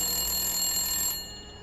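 A telephone rings with a steady electronic bell tone, loud and close, for about a second before cutting off into a faint background hum.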